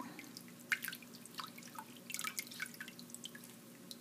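Water drips from a soaked paper towel lifted off a water surface, a few scattered soft drips and splashes close by, with quiet bursts of trickling in between.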